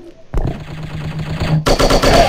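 Machine gun fire in a shooting video game: a rapid, loud, continuous burst of automatic shots with a sharp start, changing tone partway through.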